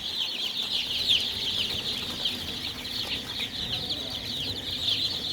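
Young tiger chicken chicks, a broiler-type breed, chirp and cheep continuously in a dense, steady chorus close by, with no voices over it.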